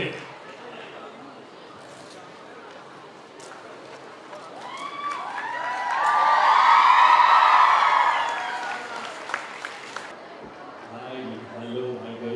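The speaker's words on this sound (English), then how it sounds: "So big round of applause for them." A crowd at a song launch event at a women's college breaks into applause and cheering with whoops, swelling to a peak and then fading as the noise settles.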